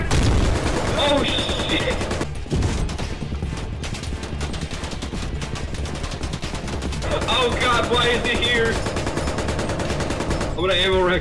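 Sustained heavy gunfire from an M1 Abrams tank and other weapons in the video game Squad, loud bursts filling most of the stretch with brief lulls, under shouted voices.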